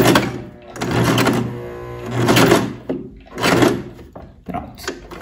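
Sewing machine stitching over an initial seam on a blouse, running in three loud bursts of rapid mechanical whirring separated by short pauses, close by.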